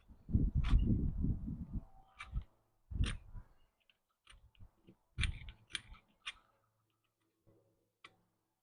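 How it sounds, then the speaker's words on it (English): Irregular metallic clicks and knocks rattle in scattered bursts, loud at first then sparse and faint, like a loose gate shaking in gusts. "Sorry about the noise, it's my gate, you can hear in the wind."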